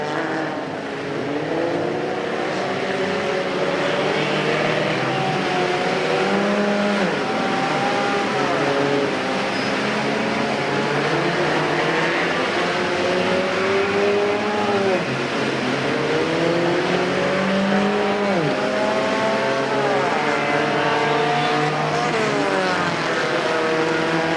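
Several mini stock race cars roar around a figure 8 track at Perris Auto Speedway, engines droning loudly and continuously with rising and falling pitch as cars accelerate and pass, a dense overlapping field of motors.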